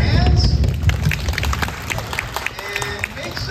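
Crowd of riders on the Despicable Me: Minion Mayhem ride at Universal Studios clapping and stomping along, a dense, steady patter of hands and feet with babble mixed in, close and fairly loud throughout.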